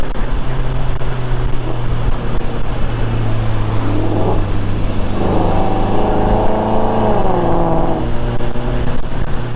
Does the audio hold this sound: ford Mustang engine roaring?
yes